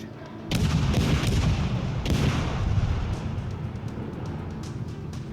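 Warship naval guns fire in the World of Warships Legends video game, with two heavy booming salvos in quick succession followed by a long rumbling decay.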